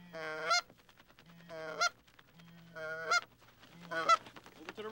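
A flock of geese honks in repeated bursts as the birds fly in toward a field during a waterfowl hunt, loud harmonic calls coming in four clusters over a low steady hum.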